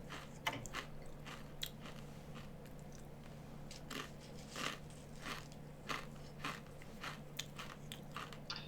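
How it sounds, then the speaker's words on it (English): Monster chomping effect in a Dungeons & Dragons fantasy game, repeated wet crunching bites and chewing in an irregular rhythm over a low steady hum, close and fairly quiet, with no voices. "the other one continues to chomp. He's just busy eating"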